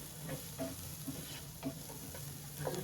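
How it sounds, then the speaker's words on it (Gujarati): Spatula stirring upma vegetables in a pan, a soft sizzle running steadily underneath with scrapes and taps recurring every half second or so, close and moderately quiet, no voices. "હવે આપણે પાછું એને હલાવી લઈશું આ રીતે"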